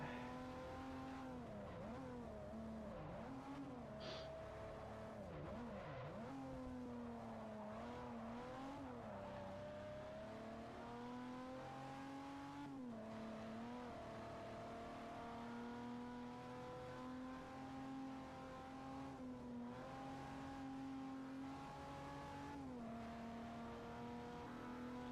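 Race cars in Forza Motorsport 4, among them a Lexus, run with steady engine roar that rises and falls through gear shifts and revs, a continuous loud drone with no one talking.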